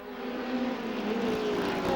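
Formula Atlantic race cars on a wet circuit peeling off into the pits, a steady engine drone with shifting whine that swells slightly as they draw nearer.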